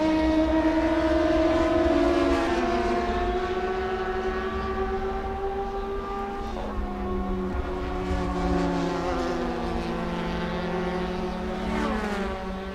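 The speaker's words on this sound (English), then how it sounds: "Watching these open wheel machines ripping around here at Watkins Glen" Open-wheel race cars rip around the Watkins Glen circuit, their engines a loud, continuous whine of rising and falling pitch as several cars pass and shift, with no voices over it.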